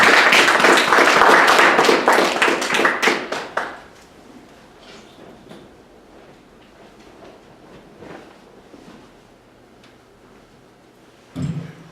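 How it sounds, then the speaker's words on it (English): A burst of audience applause at a speech competition, dense clapping for a few seconds that quickly fades to scattered claps and quiet room noise. "Let's give her a round of applause."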